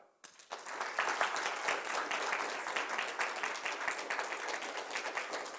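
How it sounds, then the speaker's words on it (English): A live speed-debate audience claps loudly and continuously for a clap vote, a dense wash of applause that holds steady for several seconds. "And clap vote for the other side"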